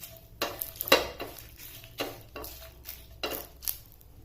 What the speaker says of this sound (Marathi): मिरची पण आता थोडीशी भाजून घ्यायची.